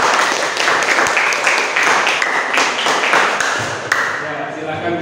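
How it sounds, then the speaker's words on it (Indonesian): A classroom audience applauds group 1 after their presentation, a continuous patter of clapping running throughout alongside a bright melodic chime-like tune. "kita beri aplaus untuk kelompok 1"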